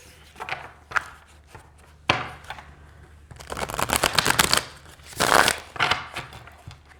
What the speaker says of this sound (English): let's go ahead and try out the shuffling